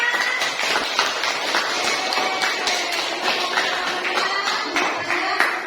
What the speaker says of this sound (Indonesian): Ayo tepuk tangan semuanya.